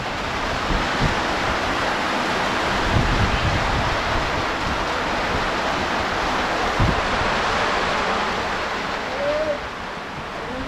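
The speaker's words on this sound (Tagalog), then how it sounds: "ang ulan na may kasamang hangin" Steady, dense rain with gusting wind: a continuous broadband roar that holds a fairly even level throughout, with no voices standing out.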